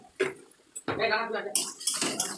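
Boal fish curry with chili powder and sugar being stirred in a pan brings a few close clinks and scrapes of a spoon against metal in short bursts.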